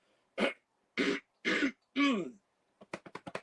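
Someone clears their throat four times in heavy, rasping bursts, then a quick run of short, choppy hiccup-like sounds.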